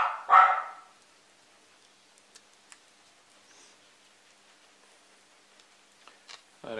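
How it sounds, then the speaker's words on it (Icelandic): Dogs bark outside: one loud, close burst of barking opens the moment, then it falls nearly silent with only faint scattered ticks and a brief noise at the very end. "Það er einhver umgangur fyrir utan og hundarnir eru að gelta."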